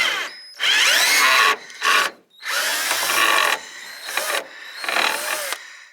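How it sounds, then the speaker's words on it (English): A power drill removes T27 Torx screws from the fuel door of a rusty Chevrolet Silverado, whirring in about five loud, close bursts separated by short pauses. "so put it in the drill now"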